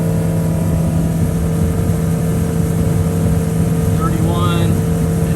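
A Honda BF90D outboard motorboat runs steadily near 5,000 RPM, giving a loud, constant engine drone with water and wind noise throughout and a brief high whine near the end.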